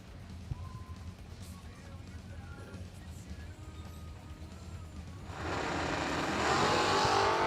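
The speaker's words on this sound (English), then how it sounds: "How about a second burnout for the Charger?" Red Dodge Charger drag car doing a burnout at a racing event, a loud broadband tire-spinning roar that swells in over the last couple of seconds after a stretch of engine rumble and crowd background.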